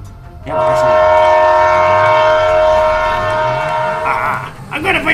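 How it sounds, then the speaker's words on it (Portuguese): In GTA 5, Thomas the train approaches with a loud, sustained horn blaring for several seconds, rumbling underneath, then tapering as other noise breaks in near the end. "O Thomas, o trem está vindo"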